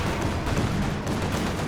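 Dense, continuous battle din from a World War II strategy game, with rocket and artillery impacts, gunfire and blasts layered into a loud, steady wash. No single hit stands out.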